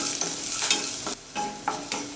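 Chopped ginger and garlic fry in ghee in a pan, giving a soft, steady sizzle that is fairly faint. A spoon scrapes and stirs in several short bursts, and no one speaks.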